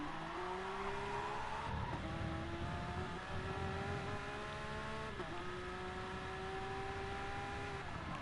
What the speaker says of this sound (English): Short downshift coming through that chicane there to get the turn in.